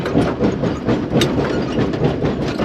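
A steam locomotive of the Pioneer Tunnel Steam Train rolls along rails with a steady, loud close-up rumble and faint rhythmic clatter from the wheels, continuous throughout.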